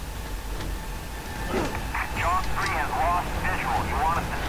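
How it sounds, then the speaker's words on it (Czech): A helicopter in the video game Prototype drones as a low, steady engine rumble through the whole stretch, with a voice talking over it in the second half. "Zase musím ničit vrtulník."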